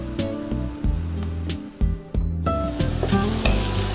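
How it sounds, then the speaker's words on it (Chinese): Enoki mushrooms sizzle loudly in a hot pan, the crackling frying interrupted by stirring knocks and shifting bursts as they are moved around. "我们把金针菇也给它先煎一下"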